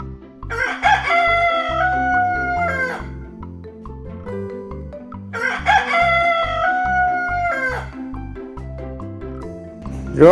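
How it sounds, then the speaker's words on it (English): A rooster crows twice, long drawn-out cock-a-doodle-doo calls that are loud and near, set over soft background music. "Rooster say cook a doodle"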